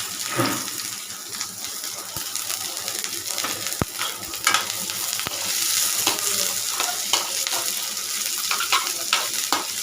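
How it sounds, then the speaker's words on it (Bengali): Onion and garlic fry in a pan for a jackfruit-seed mash, giving a steady, even sizzle throughout with occasional stirring scrapes and light utensil clicks, and no voices. "দেখো আমার লাল লাল করে সুন্দর করে পেঁয়াজ রসুনগুলো ভাজা হয়ে গেছে"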